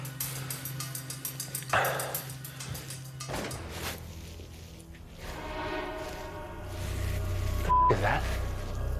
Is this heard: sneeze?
no